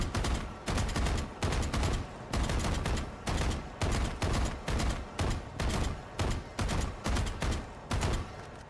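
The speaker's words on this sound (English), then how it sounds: "Like 2 bullet bursts." Video game gunfire in two-round bursts repeats at a steady rhythm, about a dozen sharp, loud double shots with short gaps between them and no talking.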